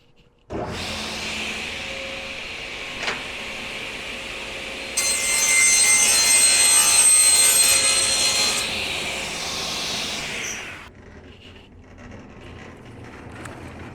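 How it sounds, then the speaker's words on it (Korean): A sliding table saw in a furniture-making workshop spins up and cuts through wood while a dust collector roars steadily; a sustained loud whine rises sharply during the cut, then winds down to quiet. "전면부에 있는 스위치를 작동시켜주고 집진기 작동한 뒤에 작업자는 역시 포켓 방향 슬라이딩 정반 뒤쪽에서 작업을 하게 되겠습니다."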